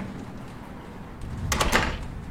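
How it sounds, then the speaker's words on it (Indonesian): A door of a small rented house rattles briefly at close range, a short burst of knocking or scraping breaking an otherwise steady, low background hum. "terdengar suara dari pintu kontrakan kecil."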